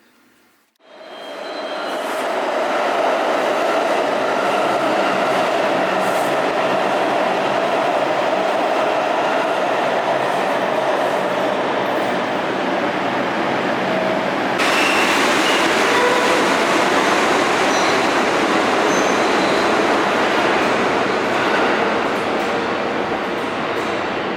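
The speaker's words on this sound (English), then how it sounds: "An Uptown Local 1 train to Van Cortlandt Park, 242nd Street, 2 minutes away." A New York subway Uptown Local 1 train bound for Van Cortlandt Park roars in loud and close, then holds a steady rumbling, rattling wash of wheels and cars on the track that grows louder partway through.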